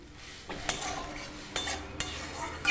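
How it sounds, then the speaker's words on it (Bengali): Food being stirred in a kadai for a ghugni made with chicken fat, with several scraping metal clinks of a utensil against the pan over a soft background hiss, close and moderately loud. "কড়াইটার মধ্যে দিয়ে দিলাম, দিয়ে 2-4 বার নেড়ে নিচ্ছি"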